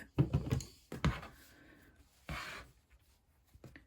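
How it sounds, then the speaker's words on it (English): Scissors snip around the edges of a beginner's fabric bowl cosy in a few short, close cuts, separated by quiet pauses. "Okay, let's give this a bit of a trim."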